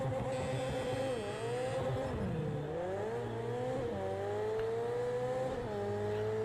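Race car engines roar continuously in the Project Cars 2 racing game, with revs climbing, dropping and climbing again through gear changes as a pack of cars runs at the start of a race, loud and steady with no pauses.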